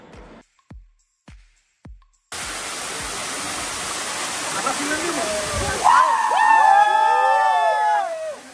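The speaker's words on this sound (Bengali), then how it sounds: "আমরা দেখতে পাই বিশাল সুপ্তধারা ঝর্ণা।" Suptodhara waterfall at Sitakunda, a large cascade, roars as steady loud broadband rushing water that sets in abruptly after a few short knocks, with faint voices underneath.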